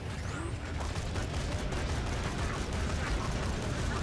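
Deployed turret firing in Borderlands 2, a steady dense barrage of rapid gunfire and mechanical clatter that continues without pause, loud and close.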